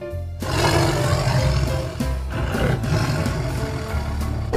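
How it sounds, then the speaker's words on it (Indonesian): A white tiger gives a loud, sustained roar that starts abruptly and rumbles on for several seconds, its intensity rising and falling slightly. "Wow, ada harimau warna putih teman-teman."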